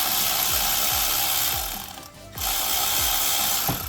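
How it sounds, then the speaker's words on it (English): A ratchet turning out 12mm bolts on the AC compressor of a 2013 Nissan Altima 2.5L, a close, rapid, regular clicking that pauses briefly before the clicking resumes. "right now I'm just using a ratchet to speed up the process"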